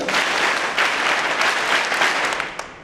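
A group claps together in unison at a birthday gathering, a dense steady wall of applause that holds for several seconds before tapering off at the end.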